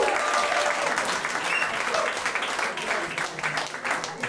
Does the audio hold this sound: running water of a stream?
no